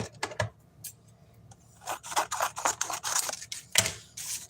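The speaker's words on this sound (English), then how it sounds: "Grab my scissors." Scissors snip through paper while a slatted Z-fold greeting card is being made, giving a run of quiet close-up crisp cuts and rustles that grow busier and denser partway through.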